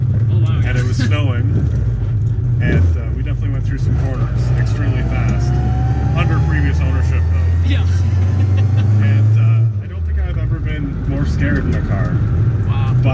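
The modified 1.3-liter engine of a 1994 Rover Mini runs loud and close with a raspy, throaty tone, revs rising and dropping, then briefly easing off before pulling again.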